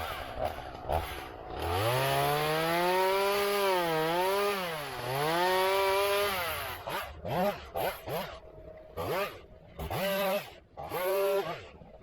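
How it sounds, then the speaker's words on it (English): Chainsaw revving loudly and steadily as it cuts down a tree near a chicken-yard briar, the pitch sagging and rising under load, then breaking into shorter bursts and idling pulses toward the end. "I'm going to get my saw out and knock that tree down"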